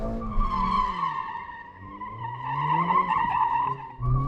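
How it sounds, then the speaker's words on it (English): The tires of a Mercedes-AMG A45 S screech loudly while it drifts sideways through a corner. The sustained squeal wavers in pitch over the low engine note and briefly eases midway before resuming. "you actually turn more into the corner to make it skid, because then it sends power to the outside rear wheel and it sends you more sideways"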